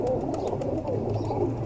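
Duck-footed pigeons cooing, a steady low murmuring coo running through the whole stretch at close range, with soft rustling and faint chirps above it.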